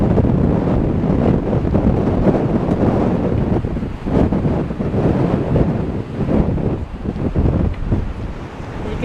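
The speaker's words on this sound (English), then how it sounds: "The wind is really strong behind me" Strong wind buffets the microphone on Blackpool promenade at high tide, a loud, steady roaring rush with surf churning underneath, unbroken for the whole stretch.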